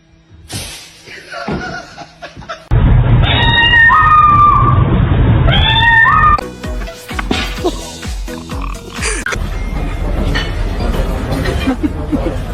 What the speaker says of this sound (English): His meow is so cute.